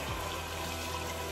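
Half a gallon of water pouring into a pot holding a pound of navy beans, a steady continuous splashing rush that stays loud and even from start to finish, with no voices.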